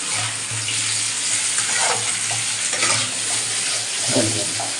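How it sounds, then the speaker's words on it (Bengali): Potatoes fry in a pan with a dense, steady close sizzle and a low hum beneath it, plus a few soft stirring scrapes. "তোমার এই আলু ভাজা হচ্ছে দেখো"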